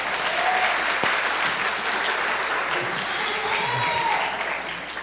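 A church congregation at a worship service claps loudly and continuously, a thick wash of hands that fades slightly toward the end.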